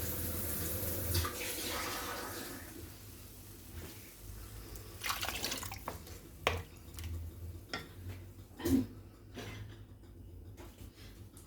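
Broth or hot water is poured into a pan of onions and garlic for chicken piccata with mushroom cream sauce. A liquid splash and sizzle are followed by scattered clinks and stirring sounds against the pan.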